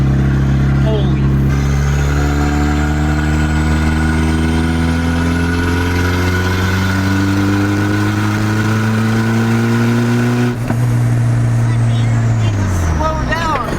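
Turbocharged Nissan 240SX engine under way, a loud, steady droning hum with strong harmonics that holds, then sags and dips as the revs fall near the end.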